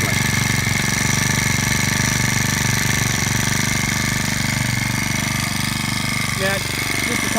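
A petrol BC35TS-2 line trimmer engine idling with no cutting head rotation, a steady buzzing drone held close and loud throughout, with a brief shift near the end.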